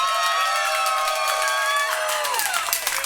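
A comedy club audience at a roast battle cheers and whoops loudly to vote for a comic to advance, a dense sustained roar with shrill whistles and shouts rising above it throughout.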